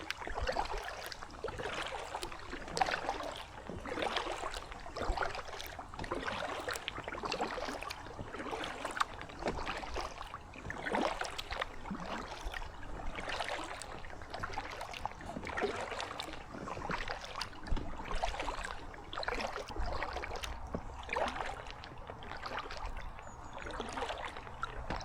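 A Gumotex Swing 1 inflatable kayak is paddled across the water in a steady rhythm of splashing blade strokes, with dripping and light trickling between them, close and continuous for a long stretch, with no talking.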